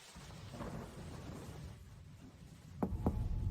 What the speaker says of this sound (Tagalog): Napakalakas ng ulan. Hindi ko alam kung gaano na ito katagal bumubuhos.